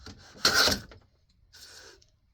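A miter plane shaves curls off wood in two rasping strokes: a loud, close first pass, then a quieter, shorter second after a brief pause.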